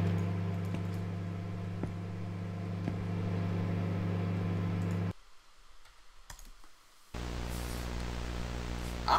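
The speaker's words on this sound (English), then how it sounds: "Why is the microwave on?" A microwave oven hums steadily and loudly in a convenience store, cutting out for about two seconds with some clicks before the drone resumes.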